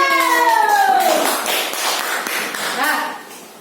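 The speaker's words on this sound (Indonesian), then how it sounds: "Mana tepuk tangan?" A classroom claps briefly for a student: a short burst of scattered hand claps and taps begins just after a voice and fades out within a few seconds.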